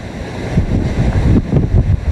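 Typhoon wind roaring through a flooded Manila street at UN Avenue and Ross Boulevard with rushing floodwater, a loud continuous buffeting rumble with gusty swells, no voices.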